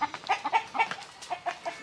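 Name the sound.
chickens clucking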